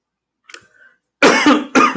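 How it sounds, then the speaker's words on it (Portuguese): A man coughs and clears his throat: a faint, short rasp first, then two loud, close, harsh coughs in quick succession. "Desculpe a minha tosse"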